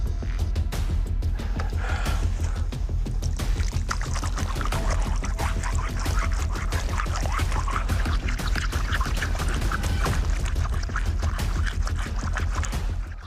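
Water is poured steadily over a stone slab carved with an inscription out in a forest, a continuous splashing wash that stays even from start to finish.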